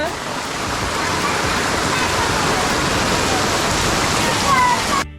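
Heavy monsoon rain pours down in the Konkan, a dense, steady roar of water hitting surfaces that stays loud and unbroken throughout.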